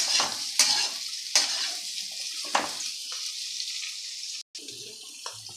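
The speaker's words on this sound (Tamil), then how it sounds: "இந்த வெந்த பட்டாணியும் உருளைக்கிழங்கும் ஒரு பெரட்டிக்குவேன்" Boiled peas and potatoes get turned in a pan, with a few crisp scraping strokes of the spoon over a soft, continuous sizzle and a brief moment of near silence.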